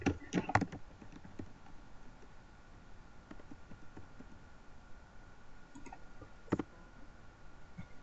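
Sparse clicks of typing on a computer keyboard, a brief cluster near the start and another burst later, quiet against a low steady background hum with no voices.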